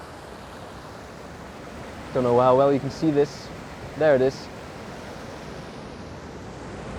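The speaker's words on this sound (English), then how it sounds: "then the waterfall comes out, or the river, sorry, comes out from right underneath me" A river flows out from beneath a stone bridge near a waterfall, a steady broad rushing wash at middle distance, with someone speaking briefly over it.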